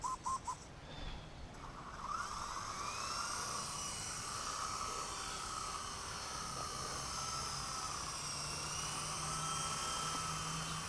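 A small Blade 120 S2 remote-control helicopter whines steadily with a high, buzzing rotor pitch that rises and shifts slightly, heard from a moderate distance outdoors.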